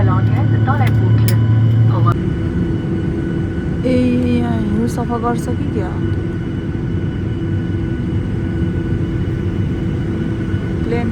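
A steady, loud engine rumble and hiss fills an airplane cabin before takeoff in a snowy cold country, with snow covering the wings. People talk over the constant drone, and a brief higher tone rises and falls partway through.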